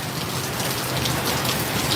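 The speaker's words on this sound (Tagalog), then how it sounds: "Pero ito, umulan na naman." Steady rain pouring down in rural Bicol, a loud continuous hiss of drops hitting surfaces with no letup, no voices.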